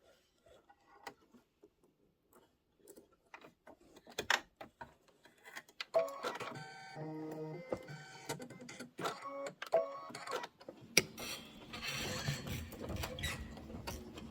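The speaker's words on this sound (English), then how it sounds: "go ahead and stitch out all the cheese" A home embroidery machine stitches out a design, a fast, quiet mechanical rattle and ticking that starts sparse and builds into a dense, continuous chatter.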